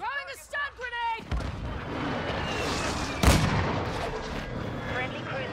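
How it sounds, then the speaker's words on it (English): Airstrike explosions in Call of Duty roll in as a dense barrage of booms and gunfire, one sharp blast standing out partway through, after a short stretch of game voice chatter. "Friendly airstrike on the way."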